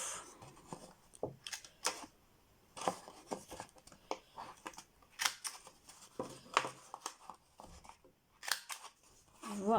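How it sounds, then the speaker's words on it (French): Paper punch rounding the corners of a craft card, a series of short crisp clicks and crunches with paper rustling between them, close and fairly quiet. "Vous prenez une perforatrice que vous avez et vous allez arrondir les angles"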